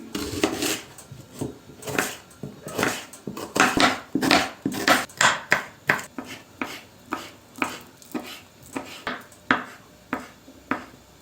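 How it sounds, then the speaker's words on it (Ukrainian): A knife chops prunes, onion and boiled egg into small cubes on a board for a salad, a steady run of sharp close taps with no talking. "Саме перше, що буду робити, виріжу чорнослив цибульку і яйце на маленькі"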